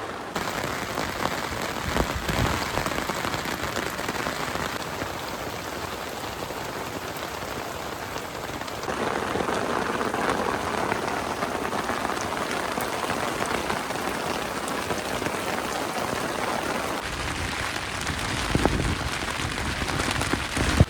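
Heavy nighttime rain drums steadily on a camping tent, a dense, loud, continuous patter that swells slightly partway through and never lets up, with no voices over it.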